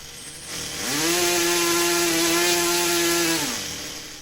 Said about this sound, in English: This is my OS Wankel rotary powered engine.